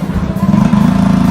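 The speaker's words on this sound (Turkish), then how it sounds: "Çok fazla motor var." A motorcycle engine rumbles close by in a quiet street in Plomari on Lesvos, a steady low drone that grows slightly louder as it passes.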